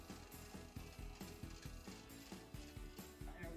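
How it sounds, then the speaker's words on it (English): A sewing machine stitches a straight line down the center of a fabric piece, giving a steady, rapid mechanical chatter of repeated needle strokes, close and continuous with no voices. "Get that needle down. And I'm going to sew right down the center."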